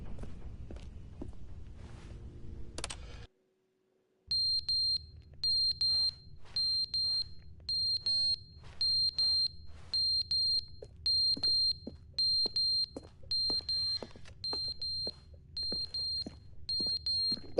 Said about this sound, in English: That beeping actually hurts.